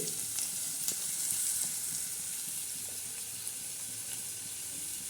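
Sprouted-bean usal ingredients with onion and tomato frying in hot oil, giving a dense, steady sizzle that fills the whole stretch close up, with no talk over it.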